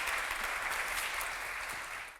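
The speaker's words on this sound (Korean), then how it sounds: "뜨거운 박수로 지성호 님의 강연 듣겠습니다." An audience at a lecture applauds to welcome the speaker, making a steady, dense wash of clapping from many hands that carries at an even level throughout and then cuts off at the end.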